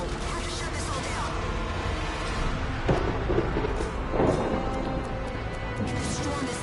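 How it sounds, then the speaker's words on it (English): A thunderstorm rages in the Anthem video game: a steady, dense roar of wind and rain with two heavier crashing rumbles near the middle, loud and continuous throughout. "If the storm is this bad,"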